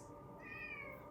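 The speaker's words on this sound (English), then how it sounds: "I apologize for the meowing" A house cat gives one drawn-out, fairly faint meow that rises and falls over a steady low background hum, with no talking.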